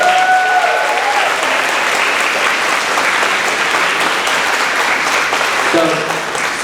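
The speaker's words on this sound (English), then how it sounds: "we have to give a big round of applause for our 4th graders" Sustained applause from a school concert audience for fourth grade students, a dense, loud, steady wash of clapping throughout, with faint brief tones from instruments or a voice near the start and end.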